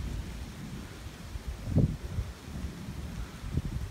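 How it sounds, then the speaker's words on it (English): A thunderstorm in Cape Girardeau, with soft rain hiss and wind noise, and a dull thump of thunder in the middle and another fainter one near the end. "Got a storm happening."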